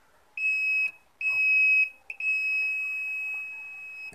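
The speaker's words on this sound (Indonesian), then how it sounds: "kalau mengukur misalkan seperti ini bunyi, diukur balik ya, menentukan apakah kapasitor konslet atau enggak" Multimeter continuity tester beeping on a capacitor during a Polytron LED TV repair: three steady high-pitched tones, two short beeps and a longer sustained one, close and clear over faint background.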